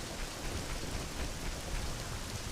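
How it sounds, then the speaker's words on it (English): Steady rain hissing in the Zelda: Ocarina of Time game mixed with real rain outdoors, a dense even wash of drops with no voices, fairly quiet throughout. "Oh, now it's raining. In the game and where I am."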